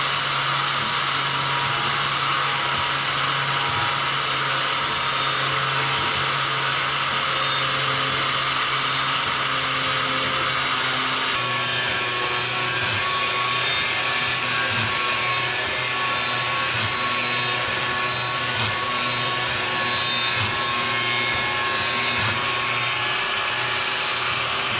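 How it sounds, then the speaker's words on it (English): An improvised home-made lathe turns steadily, giving a continuous grinding, rubbing whir with a constant hum underneath, loud and close, with no talk. "This is a redneck lathe."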